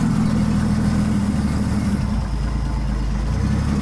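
A Bombardier B12 snow vehicle engine idling steadily with a deep, low rumble and even throb, close by, with no talking.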